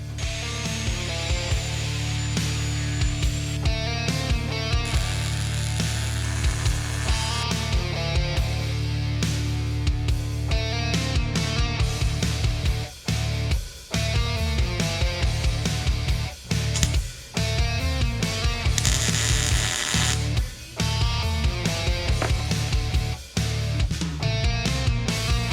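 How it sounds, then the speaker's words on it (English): A power tool grinds down and cleans up a Jeep axle, the metal housing being prepared for upper and lower C gussets to be welded on. It gives a loud, sustained whine that keeps cutting out and restarting. "marked where we're gonna grind down and clean up the axle"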